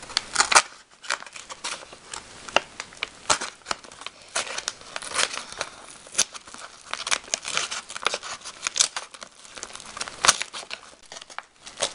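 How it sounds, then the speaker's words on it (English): A knife slits open a small mail package, with dense crinkling, tearing and scratchy cutting noises running continuously at close range, with no talking. "So let's start to open. I'm going to use my knife."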